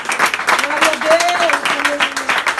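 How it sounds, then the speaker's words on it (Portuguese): A church congregation in Vila Espanhola, São Paulo, claps steadily throughout, a dense run of applause beneath a voice speaking and calling out in a sustained, sing-song tone. "Aplauda Jesus"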